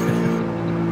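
A race car in Assetto Corsa does reverse donuts, its engine droning steadily with a tire squeal, loud and continuous for a moment with no speech over it.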